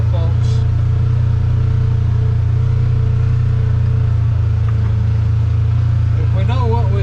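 A UTV engine drones loud and steady as the vehicle crawls over loose rocks in one-wheel drive, with a faint voice briefly audible near the end.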